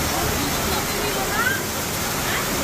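Water gushes and splashes steadily at a bathing well at the Rameshwaram temple, a dense continuous roar close by with people talking under it.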